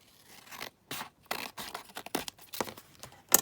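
Scissors cut down a paper junk journal page in a run of crisp, close snips, about ten separate cuts in an uneven rhythm, each with a dry papery crunch and a louder final snip.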